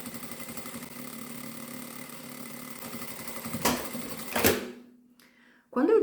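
Sewing machine stitching a seam on a small crossbody bag, a steady close whirring run that stops with a couple of sharp clunks, followed by a brief pause.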